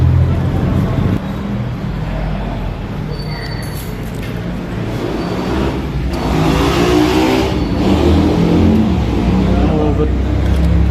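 A motorcycle engine runs loud and close, a steady low rumbling drone that rises in intensity in the second half, with people talking over it.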